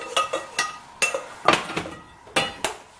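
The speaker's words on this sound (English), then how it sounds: "I'm just going to strain this oat tea real quick" Kitchen utensils clinking and scraping against a pot and strainer while oat tea is strained, a quick irregular series of close metallic taps and clinks.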